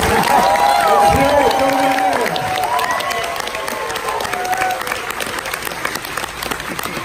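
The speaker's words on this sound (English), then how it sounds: "A little bit of applause, please." A crowd at a Full Sail Hall of Fame event applauds and cheers loudly, dense clapping with whoops that gradually thins, while voices and chatter run through it.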